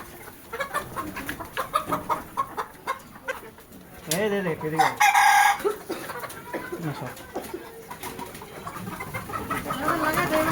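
Farmyard chickens cluck in uneven bursts close by, a louder flurry of squawks rising midway, while people talk over them.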